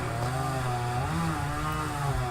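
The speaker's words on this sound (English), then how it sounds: "There's 3 or 4 chainsaws going on outside" Several chainsaws run together outdoors in a steady, droning whine, the overlapping engine tones rising and falling slightly, fairly loud and continuous with no talk.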